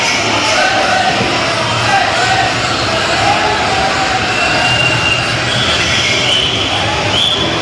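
A train rumbles steadily past a crowded Kolkata station platform at night, loud continuous wheel and carriage noise with faint squeals and crowd murmur throughout.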